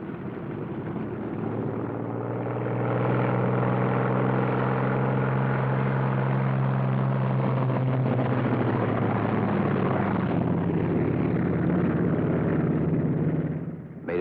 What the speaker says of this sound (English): Second pair taxis out.